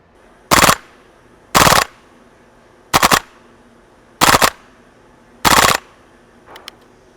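Elite Force H&K MP7 Gen 2 gas blowback airsoft PDW firing five sharp full-auto bursts, each a rapid rattling string of shots about half a second long, with quiet gaps between and a faint click at the end.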